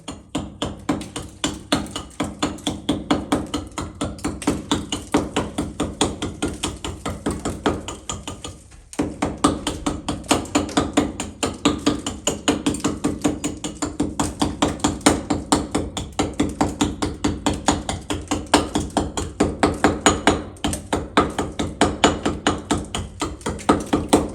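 A small hatchet chops old plaster off a garage wall in fast, steady repeated knocks. The strikes are close and loud and keep going with only a short pause partway through.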